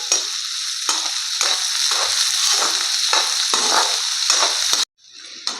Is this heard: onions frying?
yes